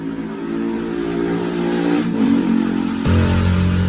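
A 125cc motorcycle engine revs loudly through a big, throaty exhaust, holding a rough drone then jumping up in pitch and volume.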